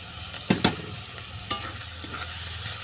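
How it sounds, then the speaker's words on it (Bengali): Boneless chicken mince sizzles as it fries in spice masala for mocha chicken, a steady close frying hiss broken by a few sharp spatula scrapes and clinks against the pan. "মশলাটা ভালো করে কষিয়ে নেওয়ার পর দিয়ে দিচ্ছি চিকেন হাড়"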